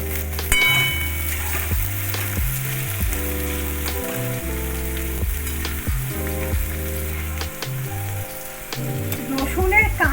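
Crushed garlic frying in a pan with a little salt gives a steady, close sizzling hiss throughout, with background music playing over it.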